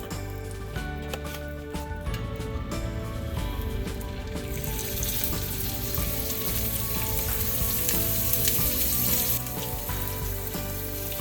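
Scallops dropped into a hot frying pan for a Valentine's dinner, a dense close sizzle that swells louder partway through, with light shuffling as the pan is shaken.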